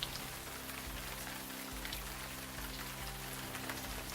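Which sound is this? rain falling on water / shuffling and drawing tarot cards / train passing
rain falling on water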